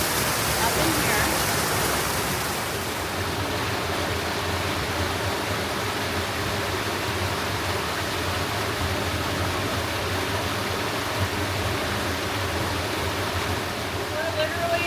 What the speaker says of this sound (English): waterfall coming down into these pools